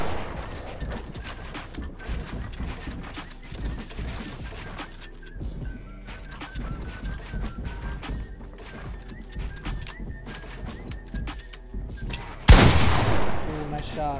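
Fortnite gunfire crackles in rapid bursts and scattered single shots over busy in-game action, ending with a louder blast near the end.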